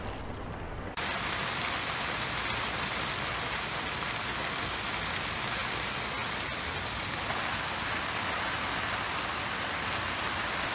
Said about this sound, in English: It has started raining.